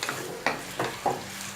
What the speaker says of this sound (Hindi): 5 मिनट अपनी चिकन को फ्राई कर लेंगे हम